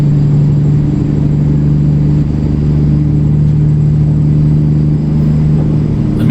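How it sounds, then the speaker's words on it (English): A Peterbilt truck engine in American Truck Simulator, hauling a 40,000 lb load, drones loud and steady throughout with a deep, even rumble and no talk. "I'm liking the sound of this engine."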